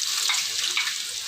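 Onions frying in a little oil inside a pressure cooker for masala mash daal give a steady bright sizzle, close and fairly loud, with no talking.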